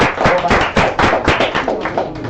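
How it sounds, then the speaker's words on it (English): A lecture class applauds a student with a burst of close, sharp hand claps. The individual slaps are distinct and fairly loud, and the patter continues unevenly for a couple of seconds. "Another applause for him."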